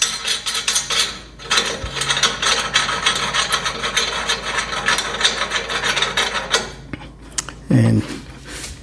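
Nuts and bolts on a Snowco universal ROPS umbrella mount being tightened with a ratchet, rapid continuous clicking and metallic rasping close up for most of the stretch, then a short pause and a few heavier knocks near the end.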